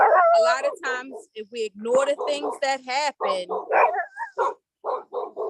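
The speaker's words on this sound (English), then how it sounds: "That's the dog next door and I'm outside." The dog next door barks outside in repeated yips and barks, faint and intermittent beneath a person talking steadily close by.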